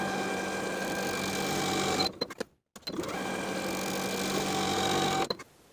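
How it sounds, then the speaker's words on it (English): A sewing machine edge stitches a fabric belt loop piece in a fast, steady mechanical whir. It runs for about two seconds, pauses briefly, then runs again and stops. The sound is soft and close. "Then we'll edge stitch along both long edges of the belt loop piece."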